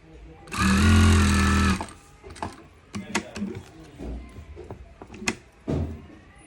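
Sewing machine stitching the placket of a polo shirt, a loud steady run of about a second followed by handling clicks and fabric rustle.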